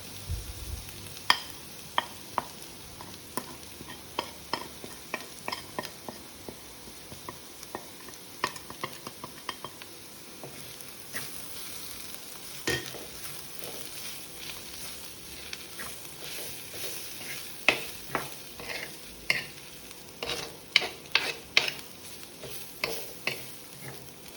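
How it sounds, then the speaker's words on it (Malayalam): Spice powders are stirred into a Kerala-style squid stir fry (thoran) in a pan, with frequent scraping and clicking of a spoon over a constant soft sizzle. "ഇനി നമ്മുടെ പൊടികളൊക്കെ ചേർത്ത് ഇത് നന്നായിട്ട് ഇളക്കി കൊടുക്കാം"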